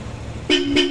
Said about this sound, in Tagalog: Yung busina pala may selector pa, busina uli sir.